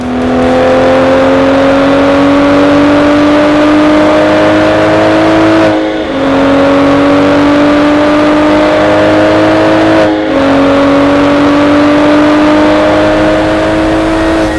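A BMW M240i engine with an aftermarket catback exhaust revs hard and steadily climbs in pitch, with two brief gear-shift dips, the loud exhaust drone continuing throughout.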